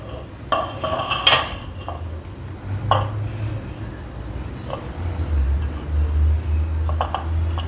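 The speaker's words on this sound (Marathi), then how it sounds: "आता आपण पटापट इडलीच्या प्लेट्स ग्रीस करून घेऊया" Metal idli plates clatter and clink as they are greased, with sharp bursts of metallic knocking and scraping close by, followed by a low kitchen hum and scattered softer taps.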